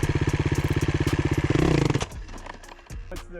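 A 250cc dirt bike engine running loud and close during a pivot turn, with a rapid pulsing idle that swells briefly, then cuts out as the bike stalls, leaving faint clatter and movement noises.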